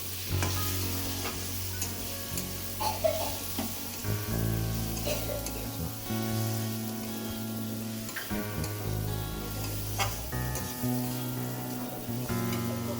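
Bottle gourd with spices fries in a pan, giving a continuous near sizzle broken by repeated scrapes and clinks as it is stirred, with no talking.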